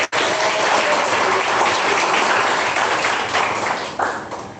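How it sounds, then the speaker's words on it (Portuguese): A church congregation claps together in a dense, sustained burst of applause that fills the room at an even loudness. It tapers slightly toward the end. "palmas, que glória a Deus"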